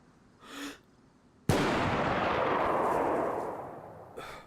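A single loud gunshot from a high-recoil weapon in the survival game DayZ, its long rumbling tail fading over about three seconds, preceded by a faint short sound and followed by another soft hit at the end.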